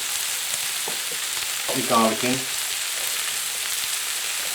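Garlic frying in a pan for a cottage pie, a steady, close sizzle throughout with a few light taps and a brief murmured voice in the middle.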